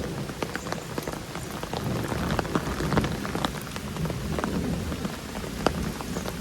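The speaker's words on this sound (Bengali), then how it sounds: "এখনো বৃষ্টি, বন্ধ খারাপ হয়ে গেছে" Steady rain pours down near a long bamboo bridge on a dark late afternoon, a dense patter of drops drumming on surfaces throughout, with no one talking.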